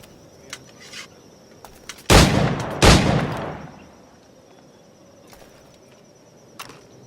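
Gunfire in Assassin's Creed IV Black Flag, two loud close shots about a second apart, each with a trailing echo that fades, amid quiet ambient game sound with a few faint clicks.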